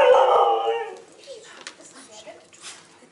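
A dog lets out a short, fairly loud howl at the start that fades within a second, followed by quieter scattered sounds and faint voices in the room.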